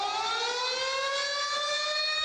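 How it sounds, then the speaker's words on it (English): A civil defense style emergency warning siren sounds steadily and loudly, a sustained rising wail with strong harmonic tones and no pauses or voices. "an emergency audio alert system, the equivalent of a warning siren"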